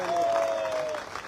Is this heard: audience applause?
yes